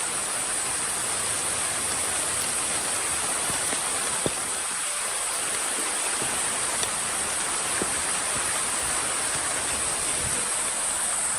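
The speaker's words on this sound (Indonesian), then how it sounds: "Dan cuaca ini lagi hujan lagi" Rain falls on a mountain hiking trail campsite in misty weather as a dense, constant rushing hiss, loud and unbroken, with a few faint ticks of drops standing out.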